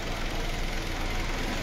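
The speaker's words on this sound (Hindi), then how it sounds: "गाड़ी के इंजन की आवाज़ बिल्कुल हल्की सी हो गई है।" Kia Sportage engine idling after a full service and cleaning, a steady, even low hum with faint mechanical ticking, continuous and fairly quiet, with no voices.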